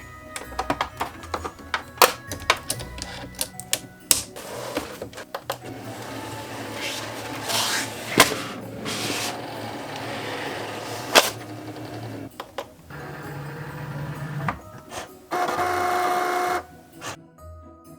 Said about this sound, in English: I'm going to load the mat and the tools because I need to add my fine point blade, and then we can cut.